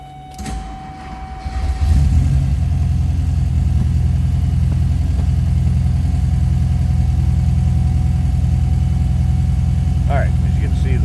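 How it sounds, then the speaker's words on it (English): A 1972 Porsche 914/4 flat-four engine cranks and catches, then settles into a steady, loud idle close by, with a faint voice near the end. "Let's go ahead and fire this up so you can hear it run."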